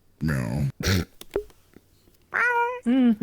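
A domestic cat gives several drawn-out, wailing meows close by, mixed with short bursts of human voices and small thumps.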